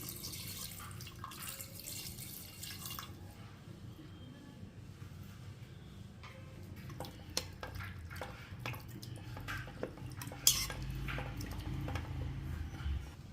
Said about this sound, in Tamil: இப்போ அரிசி கழுவுனா தண்ணி ஊற்றுறேன்.